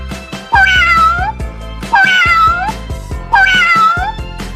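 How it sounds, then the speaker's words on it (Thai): A cat meows three times, loud and close, each a drawn-out cry spaced evenly, with soft rustling between them. "เสียงแมว"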